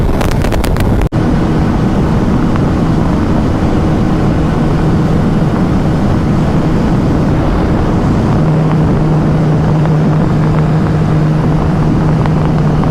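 A TVS Apache RTR 160 and a Hero Xtreme 160R drag racing head to head, their engines a steady drone buried under loud, blustery wind roar on the microphone.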